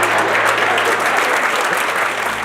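An audience at a motivational talk applauds in a dense, even wash of clapping, loud and steady from start to finish with no speech over it.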